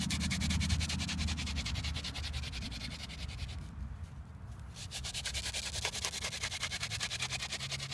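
Wooden spindle of a hand drill spun between palms against a fireboard, a steady rhythmic rubbing and grinding that runs continuously, briefly easing off midway before resuming at full strength, close and fairly loud.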